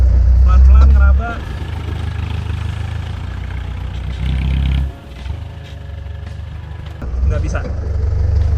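A Daihatsu Taft diesel off-roader on 35-inch tyres struggles in a deep mud pool, its engine a loud, low rumble that drops briefly and then revs again, with short bursts of voices inside the cab.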